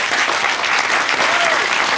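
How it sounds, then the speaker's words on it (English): Studio audience applauding steadily on a comedy panel game show, a dense continuous patter of clapping at moderate loudness throughout, with no voices on top. "Give him a round of applause."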